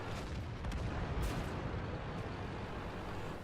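A tank cannon shot in World of Tanks, a Tiger II or IS-3 battle, lands as a heavy booming blast with a sharp burst about a second in, over dense continuous rumbling battle noise.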